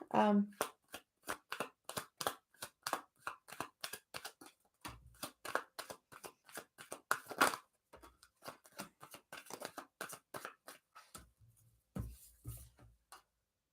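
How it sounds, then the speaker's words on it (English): Tarot cards being shuffled, a steady series of quick crisp riffling slaps and taps close by, with a voice talking at times over the shuffling. "Kiwi, the cards you get are the Queen of Swords, the Ace of Pentacles, the Hierophant, and the Justice card with the Page of Wands on the bottom"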